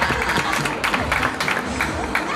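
An audience at a book fair presentation claps in a dense, continuous patter for a couple of seconds, fairly near and moderately loud.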